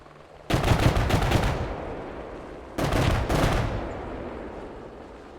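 Heavy gunfire on a range during a military radio operator training exercise, two loud sustained bursts of rapid shots, the second after a short pause, each trailing off in rumbling echo.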